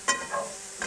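A vegan bacon alternative fries in a pan inside a caravan, a steady close sizzle with brief stirring scrapes at the start and end.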